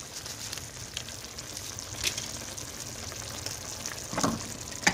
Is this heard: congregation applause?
no